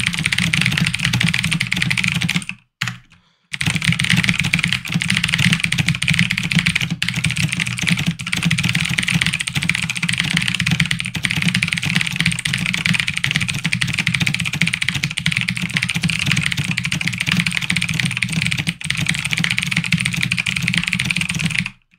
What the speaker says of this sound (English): Razer Blackwidow Chroma V2,